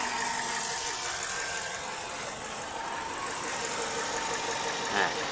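A Toyota Corolla Altis engine idles at operating temperature, an even, continuous hum with a faint mechanical rattle, with no talking over it.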